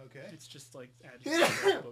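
A person gives a single loud, close sneeze right after a few spoken words, while playing the horror game Slender: The Arrival.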